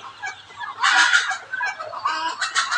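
A desi hen with newly hatched chicks clucks, and fussy bird calls come in bursts, close and fairly loud, over quiet background.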